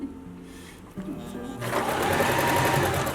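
A sewing machine stitches a fabric travel tarot mat, starting quietly with a few pauses before settling into a loud, steady whirring run of stitches for the final second and a half.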